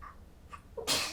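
A single sharp sneeze bursts out close by after a brief quiet intake of breath.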